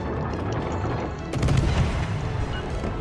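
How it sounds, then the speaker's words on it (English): A torpedo strikes the player's ship in a naval combat game, a sudden loud boom with crackling blast debris that rises out of steady background battle noise and fades over a second or two. "Oh my god, he fucking hit me with the torpedo."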